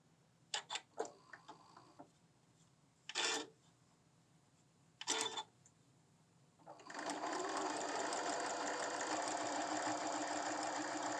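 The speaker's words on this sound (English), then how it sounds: "So we finished sewing this." Sewing machine stitching a quilted sunglasses case, with a few short separate bursts of stitching followed by a long steady run of machine noise close up.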